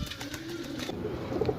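Pigeons offered for sale cooing softly and steadily at close range, a low continuous burble with no voices.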